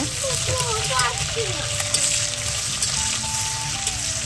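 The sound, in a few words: frying chopped onion with whole spices in a pan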